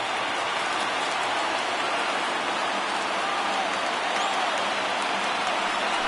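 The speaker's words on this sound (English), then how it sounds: "Crowd gets up for the 3-2." A stadium crowd roars and cheers in a Dodgers at Giants baseball video game, a dense, steady wash of noise building at a full count, with no clear speech.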